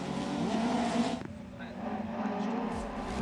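Touring car race on a muddy rallycross circuit in Finland: engines roar loudly, then drop away sharply after about a second, leaving a distant drone under a commentator's talk.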